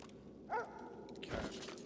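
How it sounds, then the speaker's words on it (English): Hellhound dogs in the video game Divinity Original Sin II give a single short, strained bark with a brief growl, moderately loud, followed by faint rustling and clinking. "Holy hellhounds. Those dogs sound out for blood."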